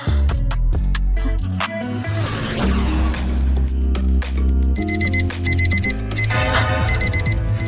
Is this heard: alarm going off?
yes